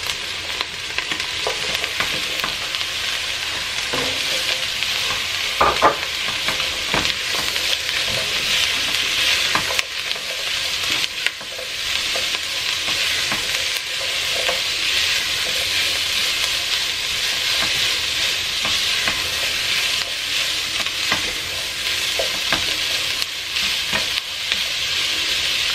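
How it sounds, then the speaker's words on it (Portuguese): Calabresa sausage frying with onion in a pan, a loud steady sizzle that fills the whole stretch, with occasional scraping and clinks of stirring over it. "enquanto a calabresa vai fritando"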